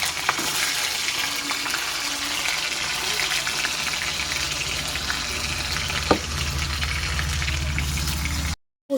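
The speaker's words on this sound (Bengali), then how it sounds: "এখানে পনিরগুলো একটু ভেজে নেব, হালকা ফ্রাই করে নেব।" Thick paneer slices frying in smoking-hot oil: a loud, continuous crackling sizzle heard close, with a few faint clinks, and a sudden cutoff near the end.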